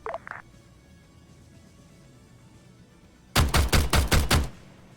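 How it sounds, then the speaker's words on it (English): A grenade launcher firing in an Arma 3 battle, a rapid burst of about six loud, punchy shots close together after a quiet stretch with a brief faint sound at the start. "Preferably that grenade launcher that's firing at us right now."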